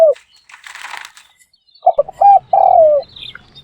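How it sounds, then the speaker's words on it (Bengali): A caged dove gives several soft coos close up, short hoots and a longer falling coo, with faint rustling between calls. "কত সুন্দর ঘুঘু পাখি"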